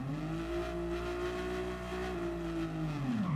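A car engine in Gran Turismo 7 revs and holds a harmonic drone that sags then climbs again toward the end, steady and moderately quiet with no talking.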